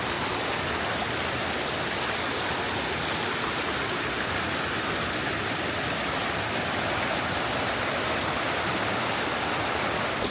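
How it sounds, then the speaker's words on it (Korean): Water spilling off rocks into a mountain valley stream on a late-summer trail, a steady broadband rush that holds unchanged and close for the whole stretch, with no voices. "옆 바위에서도 물이 계곡으로 흘러 들어가고 있네요"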